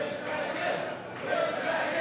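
Fight crowd at the Texas Contender Series 36 in Texas roaring and cheering for the Wind Dragon, Dustin Nguyen, a steady dense wall of voices that swells and dips and then swells again.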